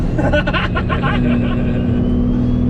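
A Cummins diesel truck with compound turbos, built to about 1113 horsepower, accelerates hard with a loud, close engine roar and a rising whine, while voices are faintly mixed underneath.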